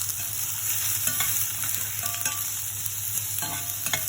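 Spices including coriander and cumin powder frying in a pan while being stirred for a pumpkin kofta dish, a steady close sizzle with scattered scraping clicks of the spoon against the pan.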